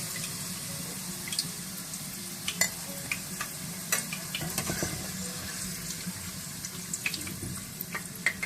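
Okra (bhindi) fries in a pan with a constant soft sizzle and scattered light scrapes and clinks of a utensil, fairly quiet and close, with no voices.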